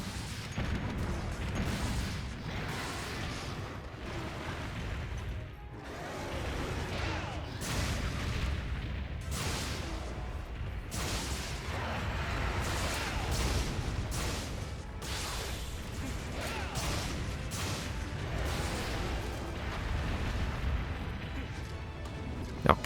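Slicing ammo fired from a bowgun against Akantor in Monster Hunter Generations Ultimate, a dense run of booming shots and bursts that continues nearly nonstop over heavy game noise.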